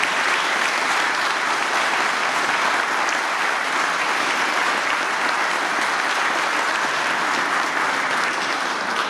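A crowd at an outdoor civic ceremony in Dijon applauds decorated officers, with loud, sustained, even clapping throughout.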